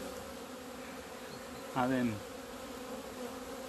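Honeybees hum softly at a hive opened in February, with one brief, louder buzz as a bee passes close. A few words are spoken quietly.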